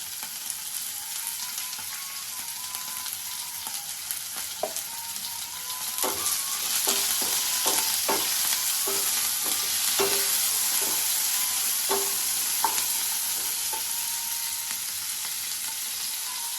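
Spices with salt and turmeric frying in oil in a home kitchen pan, a steady bright sizzle throughout, with intermittent stirring clinks and scrapes growing busier midway, no voices.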